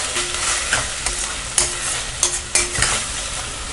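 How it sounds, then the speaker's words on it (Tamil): Ginger garlic paste sautéed with onions in a pan for a peas and potato pulao. A busy sizzle fills the clip, with sharp scrapes and knocks from stirring at irregular moments, and no one speaks. "இதையும் நல்லா பச்சை வாசனை போகிற வரைக்கும் வதக்கிக்கலாம்."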